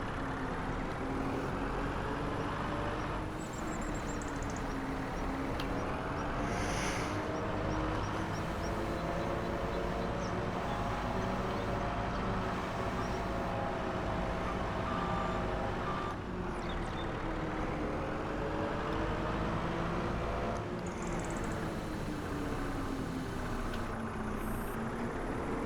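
A skid steer runs steadily while digging a pond, its engine droning throughout with revs rising and falling, and a reversing alarm beeping in repeated series over the engine; no one talks.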